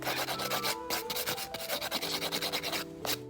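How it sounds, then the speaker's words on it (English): A hand nail file rasps back and forth across fingernails, a fast, even run of close, dry scraping strokes with no pause. "If you're going to use a hand file, then you can go back and forth like this"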